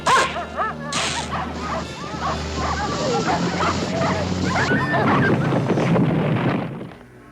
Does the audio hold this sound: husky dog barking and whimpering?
yes